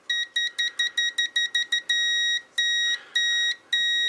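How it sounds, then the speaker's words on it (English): Electronic multimeter beeping in continuity mode while troubleshooting a Realistic TRC-200 radio speaker: a quick run of short, evenly spaced bleeps followed by longer sustained tones with brief gaps, clear and close with no talk. "I'll even put it in continuity so you can actually hear it."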